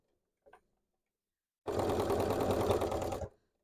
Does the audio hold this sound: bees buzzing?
no